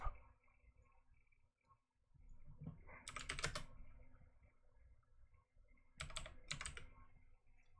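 Quiet typing on a computer keyboard: two short bursts of rapid key clicks separated by softer background shuffling and hum, close but low in level.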